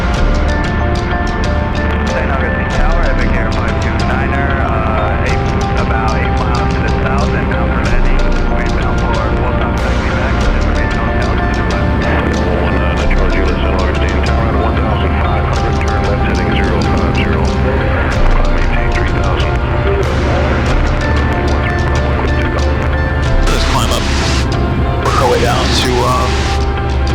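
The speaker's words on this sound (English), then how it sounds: "Flying in an old plane over the oldest city in America." A 1935 Waco biplane engine drones steadily and loud in flight over St. Augustine, with a constant rumble filling the whole stretch while people talk over it through the intercom.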